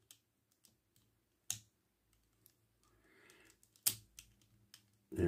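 A plastic part of a 52Toys Mega-Box Aliens Xenomorph Alien Queen toy clicking as it tabs into place: a handful of sharp, separate clicks and faint rattles, close up in an otherwise quiet room.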